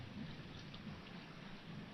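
Steady rain falling in a quiet, even hiss, faint and continuous with no voices, in a 1971 Hindi film of Ashad Ka Ek Din.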